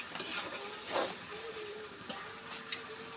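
Okra frying in a pan with cumin seeds, a few soft scrapes and clinks of a utensil against the pan over a faint, steady sizzle, close and fairly quiet.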